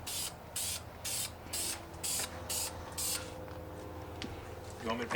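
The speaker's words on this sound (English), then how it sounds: "then we're gonna start spray painting" Spray paint hissing onto Camaro car parts in about seven evenly spaced, close bursts, each lasting roughly half a second, with a faint voice near the end.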